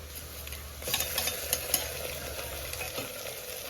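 A masala paste of ginger-garlic, whole garam masala, roasted onion and coconut is stirred and roasted in a pan at a roadside dhaba in Murbad. Soft continuous sizzling sits under several brief scraping clicks, all fairly quiet and close.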